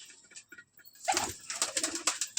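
Pigeons in a loft being fed in the morning, with a faint coo amid soft rustling and pecking that grows busier and steadier over the last half.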